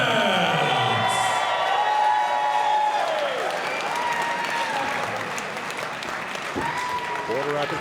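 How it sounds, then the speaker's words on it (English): A crowd at a wrestling event applauds and cheers loudly and continuously while an announcer talks over the noise. "You can hear the crowd."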